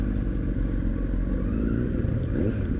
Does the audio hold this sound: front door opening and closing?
no